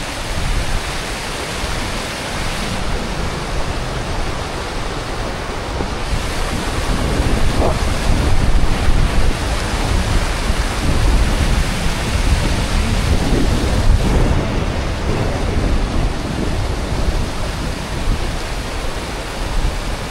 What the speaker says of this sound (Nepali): ल अब चाहिँ हाम्रो रिभर क्रसिङ हुँदैछ है गाडीको